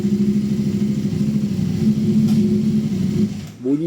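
CFMoto 800MT motorcycle engine running steadily on a test ride with a firm, even mid-pitched drone, then rising sharply in a quick rev near the end; loud and close, with no talking.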